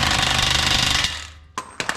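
An impact wrench snugs up the axle nut on a 2.4 Honda Accord passenger side, giving a loud, close, hammering burst about a second long. A few quieter clicks and knocks follow.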